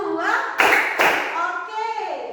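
A primary-school class claps hands in a counting clap game, with two loud claps standing out amid classroom sound and children's voices.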